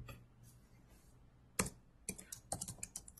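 Typing on a computer keyboard: after a quiet stretch, a single sharp keystroke, then a burst of quick clicks and a final cluster of tapping keys, close and crisp with no talking.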